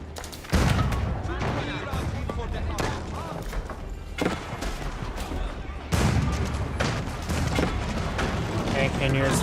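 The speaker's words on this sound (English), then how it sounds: "Cannoneers firing away." Cannoneers in Age of Empires 4 fire a cannon volley, heavy booming blasts in loud clustered bursts with rumbling battle noise between them and a caster talking throughout.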